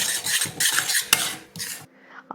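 A spoon scrapes and clatters as small onion chutney is stirred in a pan, with quick bursts of metallic scraping, then a brief quieter tail.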